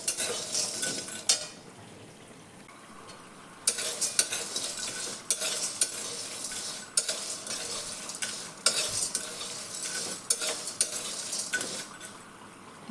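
Whole spices such as cumin, shahi jeera, black and green cardamom being stirred as they heat dry in a kadai, a steady scraping rustle with repeated sharp metallic clinks of the spoon against the pan, no talking.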